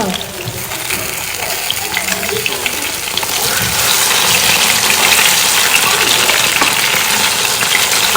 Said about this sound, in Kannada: ಇದು ಇವಾಗ ಫ್ರೈ ಆಗ್ತಾ ಉಂಟು